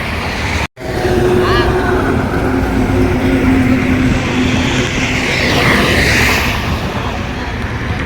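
A loud, continuous rumble of a train running along the tracks, with a steady drone and rising roar, heard up close from on board or beside it.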